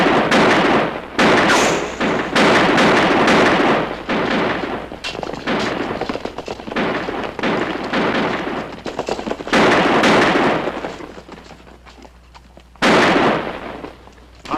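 Rapid bursts of gunfire shooting up equipment in a 1958–1959 TV western-style action scene, loud and sustained volleys with short gaps, ending in a final sharp burst after a brief lull.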